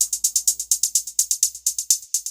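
Hi-hats drenched in heavy delay fill a dark hard-rock beat, a dense rapid stream of bright ticks and echoes repeating evenly, loud and nearly alone above a faint low rumble.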